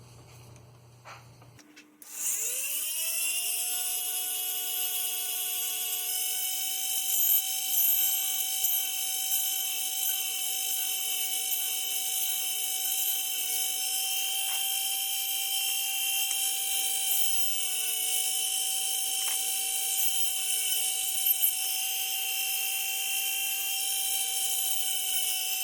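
A small electric drill spins steadily near the mic, boring a hole for a 0.30 mm fiber optic line in a Back to the Future DeLorean model build; a sustained whine with a steady pitch runs continuously after a brief start-up.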